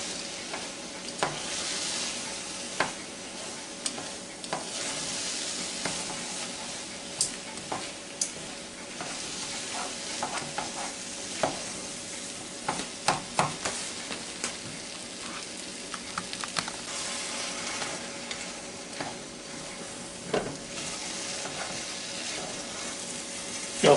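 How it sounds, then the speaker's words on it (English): Stove Top stuffing with celery and onion is stirred in a Brooklyn Brownie Copper pan, giving a soft, constant sizzle with scattered sharp spoon taps and scrapes against the pan over a long stretch, with no talking. "You'll stir it up real good, make sure everything's mixed real well in there."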